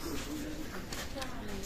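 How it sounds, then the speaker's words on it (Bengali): Pakistani teddy pigeons at a pigeon sale coo softly nearby, brief low rolling calls over background noise. "চমৎকার ব্লাড লাইনের কবুতর"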